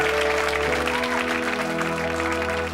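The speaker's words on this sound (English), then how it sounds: "Give them a round of applause, Mel and Sue." Studio audience applause on a British comedy chat show, a steady dense wash of clapping over a held musical tone, loud and continuous throughout.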